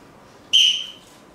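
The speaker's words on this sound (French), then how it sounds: "Vous pouvez attendre le sifflet?" A single sharp referee's whistle blast at an improvisation match, loud and close, lasting about half a second before fading in a quiet room.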